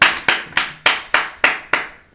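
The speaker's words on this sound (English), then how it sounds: "Hear all that round of applause?" Seven sharp claps in a slow, even rhythm, each crisp and close with a short decay, sounding alone without talk.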